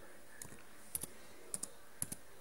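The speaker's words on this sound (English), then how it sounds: "you want to type in shutdown" Several light, quiet keystrokes on a computer keyboard, short sharp clicks spaced irregularly as a command is typed, with no talking.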